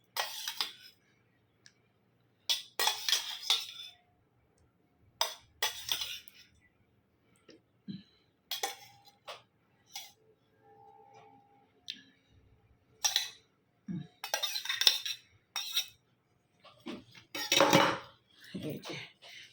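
Cutlery clinks against a plate during a home meal of shukto with bitter gourd, eggplant and papaya, coming as repeated short, bright clicks and scrapes in irregular bursts. Some quiet talk can be heard between them.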